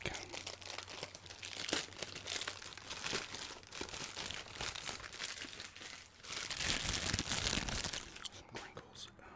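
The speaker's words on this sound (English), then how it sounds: "Some crinkles." The plastic wrapper of a gum pack crinkles and crackles close up in repeated bursts, loud and crisp, with some quiet talking in between.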